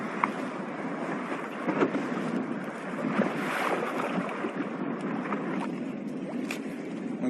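Rough waves slap and wash around a fishing boat out on open water, a steady close roar of water and wind with brief splashes throughout.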